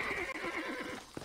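A horse in the video game Red Dead Redemption gives a quiet, wavering whinny over a steady background hum, ending with a soft snort.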